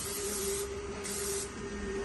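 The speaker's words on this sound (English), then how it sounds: "You just give it a nice good spray with some pan." Cooking spray hisses from a can onto a cast iron skillet for Southern-style cornbread, two close, loud bursts with a brief pause between them and no talking.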